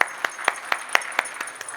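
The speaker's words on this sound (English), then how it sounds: "Let's hear a round of applause." Clapping in a hall during a warm-up session: crisp, evenly spaced claps at a quick steady beat, about eight in under two seconds, fairly close and alone without talk.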